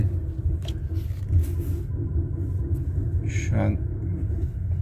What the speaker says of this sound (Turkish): Mesela şimdi birazdan daha sert bir yokuştan ineceğim.